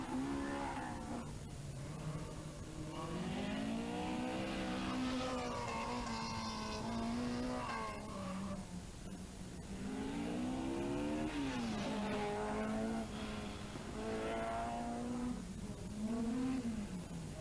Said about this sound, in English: John Price motoring on well